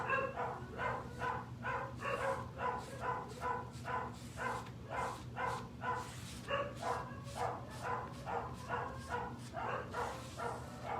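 Dogs bark repeatedly in a steady, rapid series of sharp yaps, fairly close, continuing throughout over a low hum.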